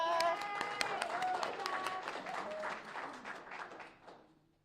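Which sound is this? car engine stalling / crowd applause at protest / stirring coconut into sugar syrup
crowd applause at protest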